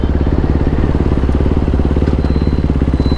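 KTM RC 390 BS3 motorcycle with a 42-tooth sprocket upgrade and Powertronic ECU, engine droning loud and close with a steady pulsing exhaust note while accelerating in third gear on a road.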